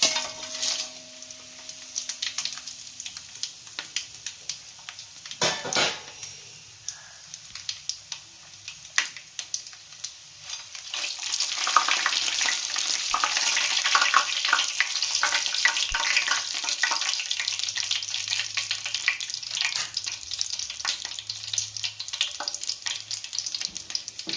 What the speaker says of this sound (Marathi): खडे मसाले जे आहेत आपले चांगले तेलामध्ये आता परतून झालेले आहेत